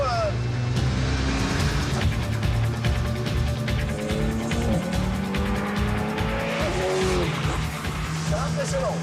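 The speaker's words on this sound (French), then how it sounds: "au volant de cette Alpine GT4 qui est quand même sonore pour un moteur turbo" An Alpine GT4 race car with a turbo engine drives the Circuit de Bresse, loud and close, with rhythmic revving and shifting pulses and tire squeal through the corners. Someone talks over it throughout.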